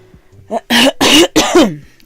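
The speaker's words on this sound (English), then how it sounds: "Oh, I cannot be coughing." Three harsh, close coughs in quick succession, each a short noisy burst, preceded by a faint throat sound.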